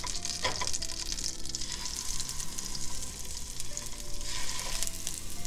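Scallops searing in a pan with a drop of grapeseed oil, a dense, constant hissing sizzle close by, with a few brief sharper crackles and spits rising out of it, no voices.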